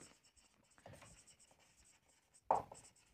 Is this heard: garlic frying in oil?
no